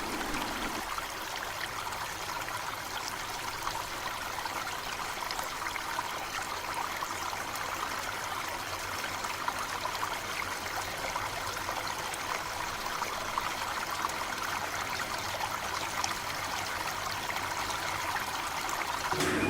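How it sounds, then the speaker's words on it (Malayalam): The broad Chalakudy river flows in a continuous, even rush of water that stays steady and moderately distant throughout, with no voices present. "ഇവിടെ ചാലക്കുടി പുഴ വളരെ വിശാലമായി ഒഴുകുന്ന അതിസുന്ദരമായ ഒരു കാഴ്ച കാണാൻ സാധിച്ചു"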